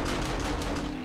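Automatic gunfire from an auto turret in the 7 Days To Die Darkness Falls mod, a dense, steady rattle of rapid shots filling the whole moment at close range with no pause.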